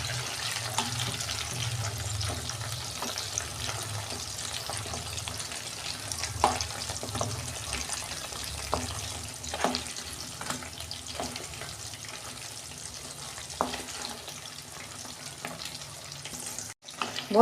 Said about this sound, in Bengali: এরম করে আমি সব কটা পকোড়াকে ভেজে নেব